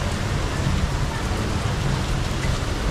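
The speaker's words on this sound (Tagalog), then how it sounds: "At sobrang lakas talaga ng ulan." Heavy rain pours down in a dense, constant roar, loud and close, with no letup throughout.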